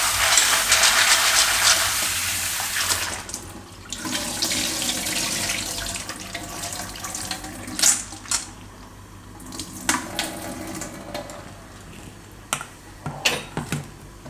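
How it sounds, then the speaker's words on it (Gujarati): Water runs steadily from a tap, hissing and splashing, then breaks into intermittent splashes and clicks as pasta is rinsed underneath. "પાણીથી આ રીતે ધોઈ નાખવાનું"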